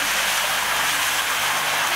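Rain falls in a constant, fairly loud wash of hiss on a wet Italian street, with a faint low rumble beneath and no voices.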